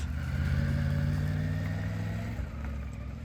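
Motorcycle cruising along a road with a steady, fairly quiet engine drone that drops slightly in pitch near the end, no talk.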